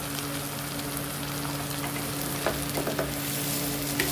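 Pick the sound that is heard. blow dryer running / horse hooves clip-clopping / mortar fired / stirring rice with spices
stirring rice with spices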